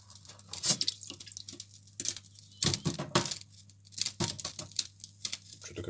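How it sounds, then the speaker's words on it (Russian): A wood stove crackling and popping after water got inside, giving sharp irregular snaps and pops at close range with quieter hissing between them and no talk. "Что-то как-то странно печка стреляет."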